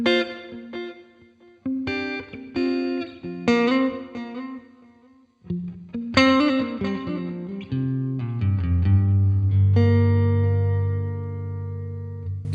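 An electric guitar runs through a NUX pan delay effect set to duo time, playing chiming chords and single notes whose repeats echo and trail behind each phrase, ending in a sustained ringing chord.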